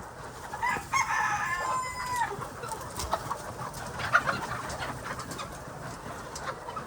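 Chickens cluck and call in a busy flock on a farm, with a rising, crow-like cry early on over a constant background murmur of birds.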